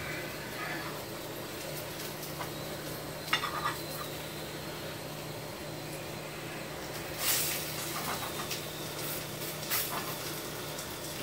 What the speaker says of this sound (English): Can hear them hot dogs sizzling up